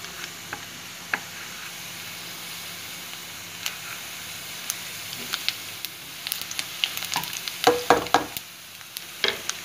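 Cumin seeds crackle in hot oil for an egg curry, a soft continuous sizzle with sparse pops that grows busier and louder near the end as stirring scrapes join in.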